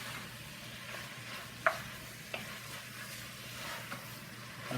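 Fresh red tomatoes dropped into ground chili meat cooking in a pan, giving a steady low sizzle and stirring hiss with one brief clatter and a few faint taps, close and quiet.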